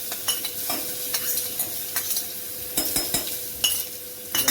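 Garlic paste frying in a pan with cumin seeds, curry leaves and vaghar spices, a steady close sizzle broken by repeated scraping stirs of a spoon against the pan, no voices.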